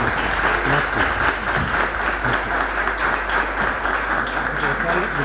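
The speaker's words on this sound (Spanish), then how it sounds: "yo querría pedir un aplauso para nuestros conferenciantes" An audience applauds the speakers at the close of an epilepsy association conference in a hall, with steady, dense clapping that holds at an even level throughout.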